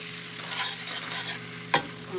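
Butter stirred in a pan for a coconut cream pie, giving a soft continuous sizzle under brushing spoon strokes, then one sharp knock of the utensil near the end.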